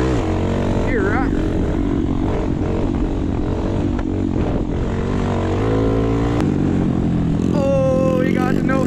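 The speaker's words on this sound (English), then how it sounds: "it feels good to get out and do some Grom wheelies" Honda Grom motorcycle engines revving during group wheelie riding, loud buzzing revs rising and falling close by, with people talking and shouting over them.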